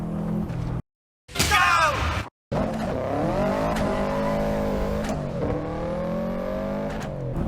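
Simulated Subaru WRX rally car in Assetto Corsa charging up Pikes Peak, engine revving hard with rising and falling gear pulls, brief cuts to silence early on, then sustained loud acceleration with tire noise.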